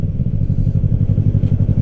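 A Yamaha motorcycle with an M4 exhaust, baffle fitted, runs loud and close with a deep, rapid, evenly pulsing engine throb throughout.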